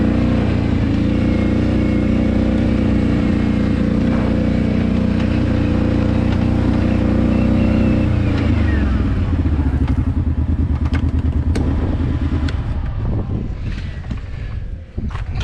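A Kawasaki Brute Force 750 ATV fitted with Zilla tires on Quad Boss wheels runs loudly close by, its steady engine note dropping around the midpoint into a rougher, choppier rumble, with wind buffeting the microphone throughout.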